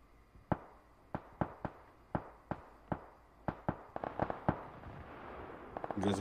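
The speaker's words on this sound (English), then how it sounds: "I'm gonna catch him with a frag" Explosions in the video game PUBG, heard as a series of sharp, distant cracks in an irregular rhythm, fairly faint, tightening into a quicker cluster near the end.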